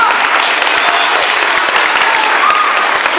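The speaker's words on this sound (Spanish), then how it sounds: "Aplausos para el show." An audience applauds a stage show with dense, loud clapping that fills the whole stretch, close and steady without a pause.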